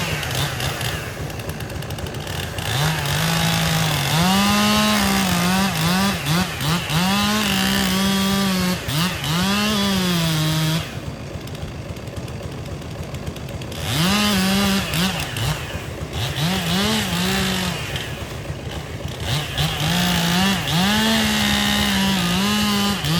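A chainsaw cuts a wedge out of a tree during garden tree surgery, loud and close, its engine rising and falling in pitch as it bites into the wood over about twenty seconds, with a few brief dips between cuts.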